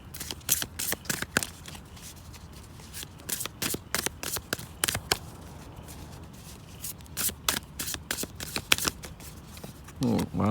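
A Tattoo Tarot card deck being shuffled by hand, close and crisp, with repeated riffling bursts and card slaps in uneven rhythm across the whole stretch.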